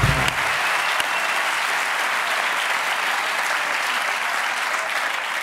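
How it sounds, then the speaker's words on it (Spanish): Studio audience at a Spanish late-night talk show applauding the first Spanish Tour de France winner, cyclist Federico Martín Bahamontes; loud, steady, dense clapping sustained throughout with no pauses. "quiero pedir un aplauso para el primer ganador español del Tour de Francia"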